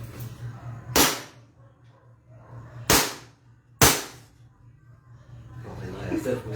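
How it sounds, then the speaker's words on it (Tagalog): A 2011 Hi-Capa airsoft pistol fires three sharp single shots spaced a second or two apart, close and crisp, over a low steady hum with faint talk in the background. "Ngayon, magpa-fire na ang ating airsoft, sir."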